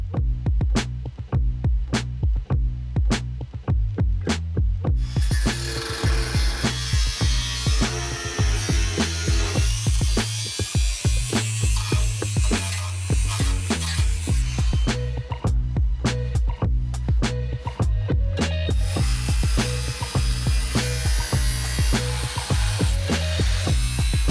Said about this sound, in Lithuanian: ten pjauna